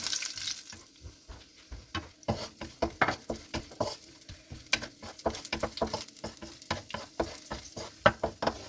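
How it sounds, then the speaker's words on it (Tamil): Cashews roast in ghee for coconut rava urundai, a soft sizzle broken by frequent quick scraping and stirring taps of a spoon against the pan, close by and fairly quiet. "முதல்ல முந்திரி வறுத்து எடுத்துக்குவோம்."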